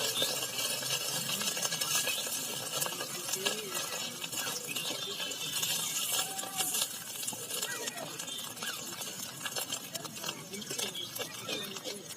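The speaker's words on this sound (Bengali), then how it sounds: "আমি আদাটা ভেজে নিচ্ছি।" Ginger frying in a pan for a village-style kochu shak (taro leaf) dish, giving a steady soft sizzle with occasional stirring scrapes and light utensil clinks throughout, fairly quiet and continuous.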